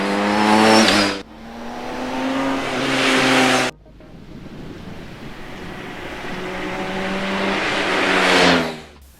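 A BMW K1600GT motorcycle engine pulls hard on the open road, rising in pitch through the gears with a brief drop between shifts, loud and close over steady wind rush, with no talking.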